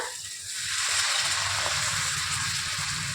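Lukewarm water poured into a simmering Bengali yogurt fish curry with katla fish, a swelling gush and hiss that rises after a brief quieter start and holds steady to the end.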